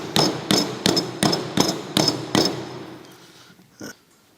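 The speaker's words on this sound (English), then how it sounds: "Use of a rubber mallet." A rubber mallet knocks on a compressor canister in seven even, solid thuds about half a second apart, loud and close, then a single softer knock after a short pause.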